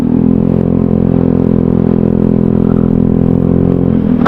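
Motorcycle engine droning steadily on a long endurance ride of several hundred kilometres, loud and close with a constant low hum and some rattling, no talking.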